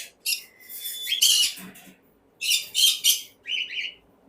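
A green-cheeked conure gives several harsh, raspy squawks in short bursts with pauses between, close and loud, with no talking.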